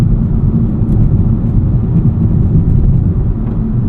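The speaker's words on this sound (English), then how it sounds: "All right, rough and bumpy road here." Steady low road rumble and muffled drivetrain noise inside the cabin of a 2023 Honda Civic Type R driving over a rough, bumpy road, a continuous dense drone throughout.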